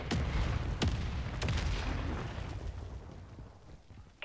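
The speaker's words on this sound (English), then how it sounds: "Mortar support incoming! Copy that. Mortar strike inbound now." Mortar strike explosions in the Modern Warfare Zombies video game, a dense rumbling barrage with several sharp booming blasts early on, then a sustained low roar that slowly fades.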